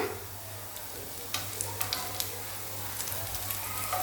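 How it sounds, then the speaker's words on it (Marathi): Taro leaf vadi slices shallow-frying in oil in a pan after being flipped, a soft steady sizzle with light crackling pops and occasional stirring taps, close and fairly quiet with no talk. "दुसऱ्या साईडने सुद्धा व्यवस्थित आपण फ्राय करून घेऊया"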